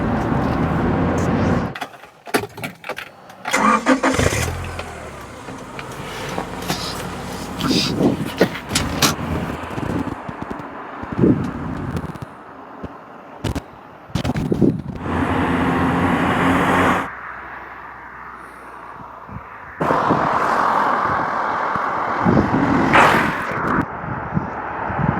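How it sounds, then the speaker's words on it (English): A Rover 600 climbs Blackstone Edge in fifth gear, its engine droning steadily from inside the cabin, with interruptions and shifts in level and someone talking at times over it. "What a wonderful day to be taking a leisurely drive in a Rover."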